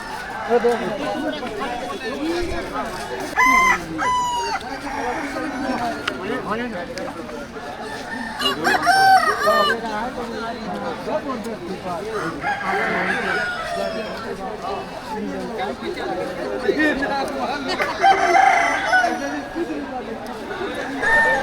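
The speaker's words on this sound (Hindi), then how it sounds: "ये तरफ पूरा मुर्गा बाजार है, पूरा मुर्गा है।" Rooster crows and clucking hens ring out over busy crowd chatter, several birds calling at once in a noisy, lively chicken market at Gidam, Bastar, Chhattisgarh.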